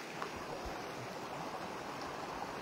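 Stream water flowing outdoors at night, a faint steady rushing wash with soft gurgles, low and continuous, no voices.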